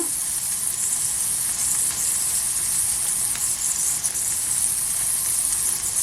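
Butter sizzling steadily as it melts in a pan over high heat for apple crêpes, a continuous bright crackling hiss close by without pauses or talk.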